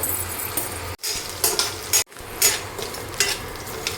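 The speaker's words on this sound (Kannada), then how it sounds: "ಒಂದು ಈರುಳ್ಳಿ ಆದರೆ ಸಾಕು ಜಾಸ್ತಿ ಏನು ಬೇಕಿಲ್ಲ ಇದನ್ನು ಫ್ರೈ ಮಾಡ್ಕೋಬೇಕು" A single onion frying in a pan, soft sizzling under repeated spoon-and-pan scrapes and clinks, broken by two brief silent gaps, no one talking.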